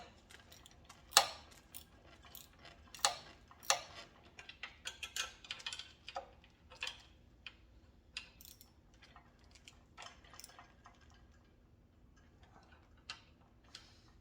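A ratchet clicks in short, irregular bursts while bolts are tightened on an Amazon mini bike, with quiet metallic ticks and tool handling, fairly close but soft, with no voices.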